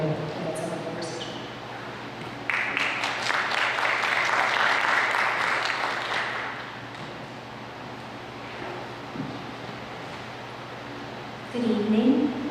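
An audience welcomes panelists at a talk on the legacy of 9/11, warm applause swelling from a hall and lasting several seconds before fading, with a speaking voice before and after it.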